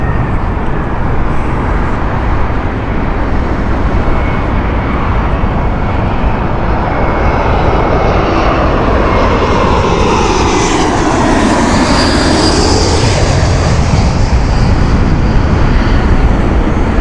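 A Finnair-liveried jet run by British Airways at Heathrow, its engines a loud, steady roar that swells and shifts in pitch as it passes, with distant road traffic beneath.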